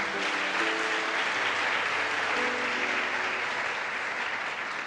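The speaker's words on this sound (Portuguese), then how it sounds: "Você pode aplaudir essa palavra?" Steady applause from a large church congregation fills the space, a dense continuous patter of many hands with faint sustained musical tones underneath.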